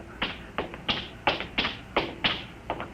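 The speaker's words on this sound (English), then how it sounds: "I hear somebody coming" Footsteps for a radio drama, about eight firm, evenly spaced treads in a steady walking rhythm, drawing near and fairly close, with no voices.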